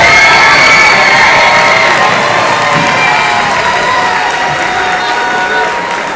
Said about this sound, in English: Can we give another round of applause for these amazing students?